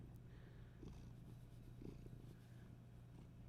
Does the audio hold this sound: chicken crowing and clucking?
no